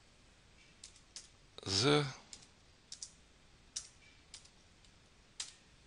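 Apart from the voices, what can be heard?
typing text on a computer keyboard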